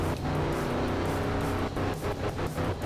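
Rally truck engine in the art of rally video game, set on a dry Australian stage, roaring steadily and loud at high revs, with a few quick shifts or bumps near the end and no voices.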